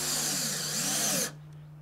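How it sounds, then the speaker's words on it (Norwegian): Power drill driving screws into wooden stair treads and risers, a close, loud whirring buzz for just over a second that cuts off abruptly, leaving quiet room hum. "Både opptrinn og inntrinn festes til vangene med skruer på vanlig måte."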